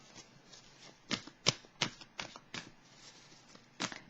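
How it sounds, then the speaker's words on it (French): A tarot card drawn from the deck: a few soft, sharp card snaps and slides spaced across a quiet room, faint and close, with no talking. "Je vais piger une autre carte ici."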